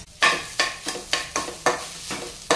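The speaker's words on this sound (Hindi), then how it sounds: "ये फ्रेश कोकोनट है" Fresh grated coconut roasting in a pan for Diwali laddu, stirred in a steady rhythm of about seven scraping strokes over a soft sizzle, close and loud with no talk.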